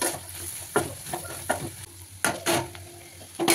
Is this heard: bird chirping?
no